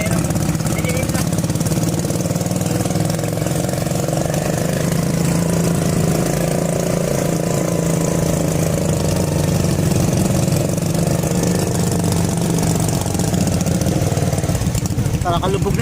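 A motor engine runs and idles with a steady, loud chugging drone through floodwater, continuous throughout, while voices talk in the background.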